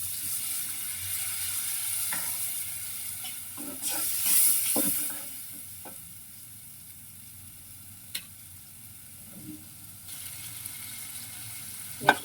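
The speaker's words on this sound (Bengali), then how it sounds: "এবার একটু ঝোল দিয়ে দিচ্ছি।" Broth goes into a pan of prawns cooking for a bottle gourd dish, giving a steady close sizzle with stirring scrapes and occasional clinks. No one talks.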